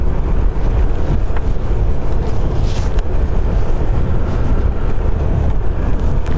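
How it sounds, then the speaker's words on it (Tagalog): Steady, loud wind roars and buffets continuously against a motorcycle rider on a mountain road in northern Luzon, a dense rushing noise with no voices. "Lamig ng tama ng hangin sa mukha."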